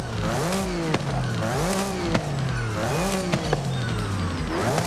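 A Toyota GR86 two-litre boxer engine in the Forza Horizon 5 racing game revs up and down repeatedly, each rise and fall ending in a crackling shift, a loud and continuous in-game engine note.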